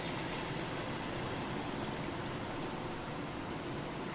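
Heated water poured into a tomato rice mixture in a pressure cooker makes a steady, even rushing splash that holds unchanged throughout, with no voices.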